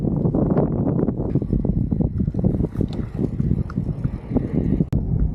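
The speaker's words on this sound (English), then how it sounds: "I totally underestimated the wind on this section. I can barely move my bike right now. The wind is so damn strong." Strong wind buffeting the microphone while cycling a sidewalk section of the Florida National Scenic Trail, a loud continuous rumbling roar with gusty fluctuations throughout.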